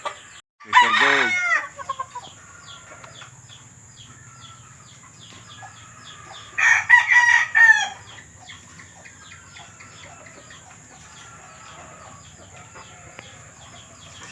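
A Sweater Gold gamefowl rooster crows twice, loud and close, with a quiet pause between the calls and soft clucks and rustling from the yard in between.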